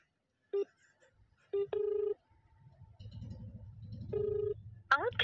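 A phone call is dialed, with short electronic keypad tones in separate bursts and pauses, then low background murmur and a brief rising warble at the end, moderately faint.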